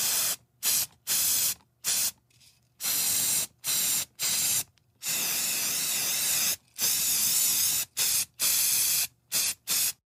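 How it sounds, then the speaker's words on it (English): A spray paint can hisses against a garage door in repeated bursts, some short and some long and steady, with brief pauses between, loud and close with no talk. "now it's time to spray paint his garage door."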